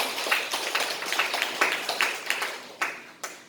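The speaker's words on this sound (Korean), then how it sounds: "모두를 위해서 박수 한번 쳐봅시다" An audience claps in a short, uneven burst of applause, moderately loud, with individual hand claps standing out in a loose rhythm that thins toward the end.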